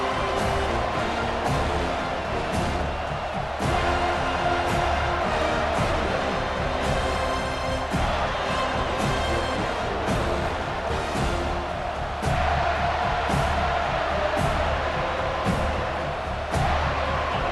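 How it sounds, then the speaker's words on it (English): A home stadium crowd roars continuously in the college football video game EA Sports College Football 25, a dense, loud, unbroken wash of cheering noise with faint thumps scattered throughout. "And how nice is it to have the home crowd going absolutely bananas?"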